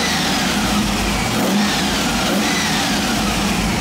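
A rebuilt RPi 4.6 twin plenum hotwire Rover V8 with full RPI ignition and manual gearbox revving loudly and close, a deep steady engine roar held throughout with slight rises in pitch, no talk over it.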